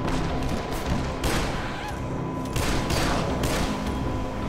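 Gunfire in the video game Dead Island, a few loud bursts of shots breaking through a steady background of noise, close and without talking.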